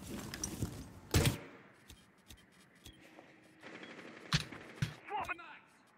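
Bursts of gunfire in Rainbow Six Siege come as a few sharp, separate shots and short volleys, mostly mid-distance and fairly loud, with quieter game sounds between them.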